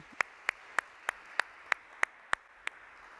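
Applause at the closing of a conference workshop session comes through as about nine isolated, evenly spaced claps, crisp and close, with quiet between them.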